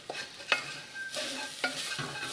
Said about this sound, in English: Going to toast those spices down